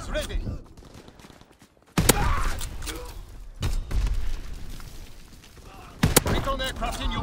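Gunfire in Call of Duty WW2 during a hardcore team deathmatch, with sharp, loud bursts and booming shots at irregular intervals over a rumbling battle background, while voices talk intermittently.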